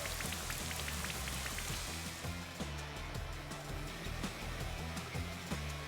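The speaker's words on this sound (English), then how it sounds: "Oh, the weather changed again. Right, with you. Here comes the rain." Rain begins falling in Pokemon Sword & Shield, a steady patter of drops on surfaces under a low rumbling game soundscape, with a repeating musical pattern audible underneath.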